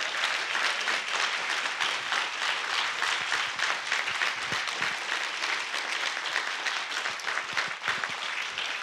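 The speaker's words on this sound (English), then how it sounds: "Give everyone a round of applause." An audience claps steadily after a panel discussion and teach-in, a dense sustained round of applause filling the room with no voices over it.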